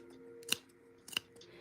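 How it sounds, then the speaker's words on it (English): Two sharp scissor snips, a pair of very good scissors cutting through thick material, each crisp and close against a quiet hum. "I have like a pair of very, very nice scissors, so it's not that difficult for me to cut through it"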